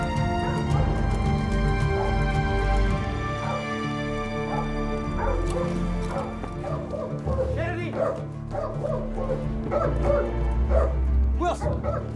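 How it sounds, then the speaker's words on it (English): A dog barks and yips repeatedly close by, with whimpering cries mixed in, loud and continuous over a busy background. "He's barking like crazy."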